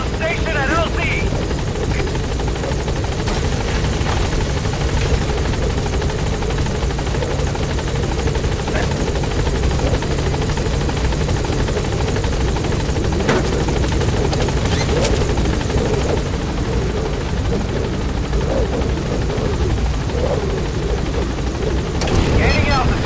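In Metal Gear Solid V, set in Afghanistan, a helicopter sits at a landing zone. Its rotor throbs as a dense, loud, continuous roar that never lets up, with faint radio chatter mixed in.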